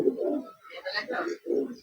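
A red Madras pigeon gives a few soft, throaty coos at a loft, close by, mixed with someone talking over them.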